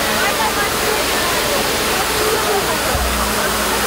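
A fire hose sprays high-pressure water in a loud, continuous rushing hiss that stays constant throughout, with a low thump near the end.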